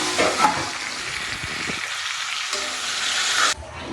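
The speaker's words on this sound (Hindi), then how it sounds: "प्याज लगभग ब्राउन हो गया, तो अब डाल रहा हूँ मैं इसमें टमाटर" Onions, garlic and green chili sizzle and fry steadily in a hot pan with bursts of stirring, then the hiss cuts off sharply near the end as tomatoes go in, loud and close without talk.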